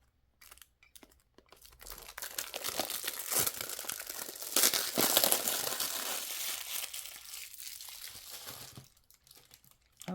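X-Acto knife slicing through art-set packaging, with crinkling, tearing plastic and cardboard close by, building over several seconds and then easing off, nearly free of talk.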